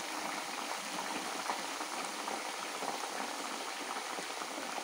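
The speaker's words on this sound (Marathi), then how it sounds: "त्याला चांगली उकळी येऊ द्यायची।" Close, continuous bubbling and fine crackle of herbal hair oil boiling in a pan with pounded leaves, steady and unbroken from start to finish, no voices.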